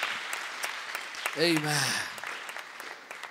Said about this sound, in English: Let's give the Lord a mighty clap.